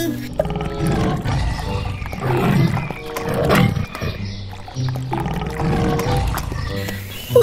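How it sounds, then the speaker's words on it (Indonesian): A toy tiger gives a loud, close animal roar that sounds recorded. The growling rumble continues across the clip and swells and dips in several long surges. "dan ini si loreng harimau teman-teman"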